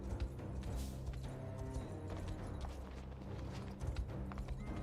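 Quick, steady hoof clip-clops of a trotting horse in the video game Unicorn Overlord, fairly quiet beneath busy, cluttered game sound effects.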